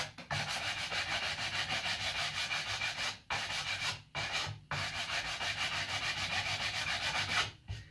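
Continuous rhythmic sanding of wood at the tip of a wooden paddle bow while shaping a pin nock, abrasive rubbing strokes, loud and close, broken only by a few brief pauses.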